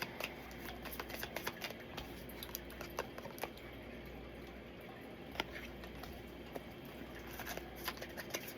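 Oracle cards being handled and drawn from a deck, with soft, continuous shuffling and sliding rustles punctuated by light taps and flicks, close and quiet with no talking.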